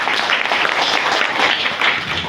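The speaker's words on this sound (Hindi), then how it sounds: "उनके लिए एक जोरदार ताली बजा दें" Workshop audience applauding in an auditorium hall, a dense steady wash of many hands clapping throughout, fairly loud and without talk.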